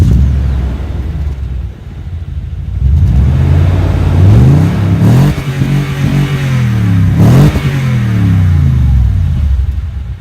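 A 2018 Toyota Tundra pickup with a 5.7-liter V8 and optional sport exhaust revs repeatedly, its deep rumble rising and falling in several loud, close blips over a steady idle, with no talking.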